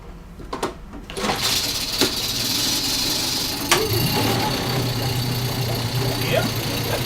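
A Tohatsu 15 hp four-stroke outboard motor running after a fresh gas feed, a steady mid-pitched idle that settles in after a few sharp knocks and clatters at the start.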